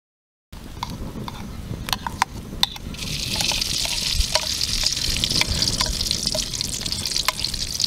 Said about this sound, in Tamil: முந்திரி வறுத்துக்கலாம்